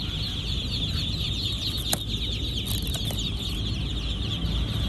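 About 2,500 Muscovy ducklings crated at the Nong Khai border checkpoint keep up a dense, continuous chorus of high chirping, steady and loud throughout with no talking.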